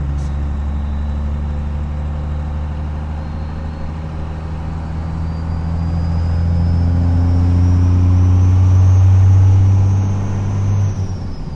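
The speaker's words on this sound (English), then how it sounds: "When you're driving up here in rural Oregon, you always slow down through the towns." Car with a new diesel engine cruising on a rural Oregon road near Elgin, a loud, steady low engine drone and road rumble that swells in the middle and then eases slightly.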